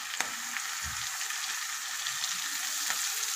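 Garlic and ginger fry in hot oil with green pepper for anchovy fish pickle, a steady soft sizzle broken by a few faint clinks and a low bump, with no one speaking.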